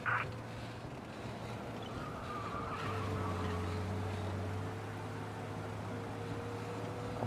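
In the video game Mafia: Definitive Edition, a car engine hums steadily at speed while tires hiss and squeal in a long, continuous skid, close and moderately loud.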